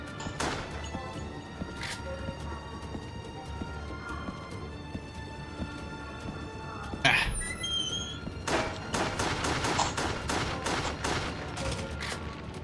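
Gunfire in the video game Resident Evil: The Darkside Chronicles, with scattered single shots early on, a loud crash midway, then rapid bursts of repeated shots toward the end, all fairly quiet.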